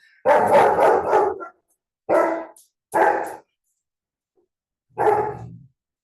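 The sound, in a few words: dog barking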